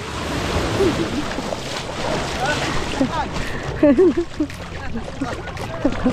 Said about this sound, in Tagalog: Kuya, laki ng alon.